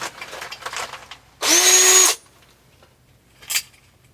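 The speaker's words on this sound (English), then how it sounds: "Gonna drill this bad boy out." A power drill with a machinist bit and built-in starter tip drills out a part during a custom fender install on a Toei 650b randonneur bicycle, one loud steady whir under a second, then faint handling clicks and a brief scrape.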